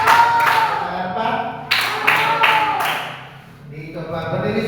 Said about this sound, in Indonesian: Tepuk tangan tiga tahu? Tepuk tangan empat?